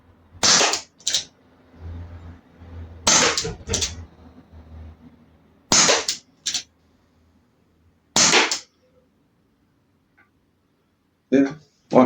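Chiappa Rhino 60DS revolver fired outdoors beside a house carport, four sharp paired blasts spaced a few seconds apart, loud and close with brief ringing decay, a faint shot or click near the end.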